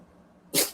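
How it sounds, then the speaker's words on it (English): A single short, sharp sneeze from a dog bursts out after a moment of near silence. "Oh, he sneezed."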